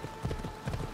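A horse in Assassin's Creed Odyssey gallops along, its quick, muffled hoofbeats drumming steadily over a constant game ambience with a faint tonal hum.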